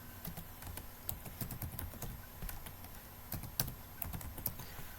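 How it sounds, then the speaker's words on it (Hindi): A computer keyboard is tapped in an irregular, soft clatter of keystrokes as a name is typed, with no voices and only quiet room tone around it. "तो हम अपना नाम टाइप करेंगे।"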